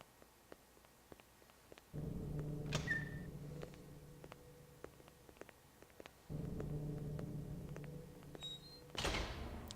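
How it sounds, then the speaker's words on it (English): Doors opening and closing in the stealth video game Hitman 2, a low humming creak that starts abruptly, holds, cuts off and repeats, over a quiet ambient bed with soft ticks. "Apparently the guards don't hear doors opening and closing."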